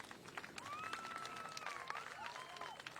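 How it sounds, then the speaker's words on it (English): Audience applause for the finalists of a fiddle contest at the 51st Smithville Fiddlers' Jamboree: steady, moderately distant clapping from a crowd, with a bright whistle-like tone gliding over it. "Y'all give them a round of applause."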